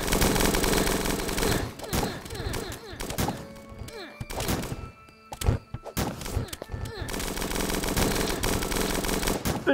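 Gunfire in the video game Starbound comes in dense, rapid bursts, loud and rattling, broken by a brief quieter gap with scattered thuds before the sustained shooting resumes.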